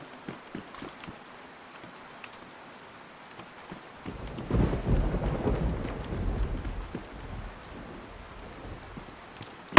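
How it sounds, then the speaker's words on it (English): Rain and a rolling rumble of thunder in the DayZ video game on the Chernarus map: a steady patter swells into a loud, long thunder roll partway through, then settles back to falling rain. "The rain in this game is so loud."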